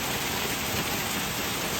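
A parked car's hood takes a violent hailstorm, the pounding ice merging into a dense, steady roar of impacts with no pauses and no voices.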